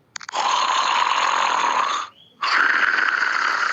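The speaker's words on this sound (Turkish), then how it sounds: "Uyuma ses efekti yani horlama ses efekti." A snoring sound effect: two long, loud snores, a rasping inhale, a brief pause, then another snore, close and clear with no talking.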